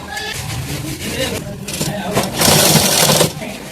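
A sewing machine stitches piping onto a single-dart cross-cut blouse, a steady mechanical whir that rises louder near the end, running under a woman's speech.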